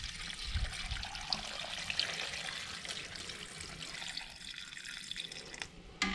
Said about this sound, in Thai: เดี๋ยวเรานำ น้ำปูนใสของเรากรองนะครับแล้วไปเทใส่ในมะขามของเราเลยครับ